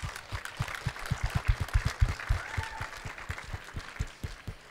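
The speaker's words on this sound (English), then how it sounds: "Yeah, round of applause, guys." An audience at a cosplay panel gives a round of applause, a moderate patter of many hands clapping that fades a little toward the end, with no talk over it.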